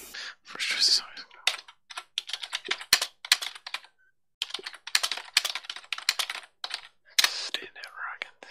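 Rapid bursts of typing on a computer keyboard, irregular clusters of clicks with short pauses, close and fairly quiet, with soft murmured self-talk mixed in.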